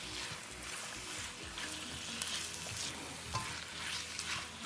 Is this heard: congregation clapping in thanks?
no